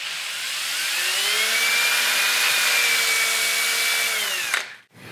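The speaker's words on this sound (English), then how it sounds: "Let's just sand a little bit of it here." A power sander runs on a dowel of gray wood with a steady high-pitched whine and broad hiss, holding constant for several seconds before spinning down and stopping.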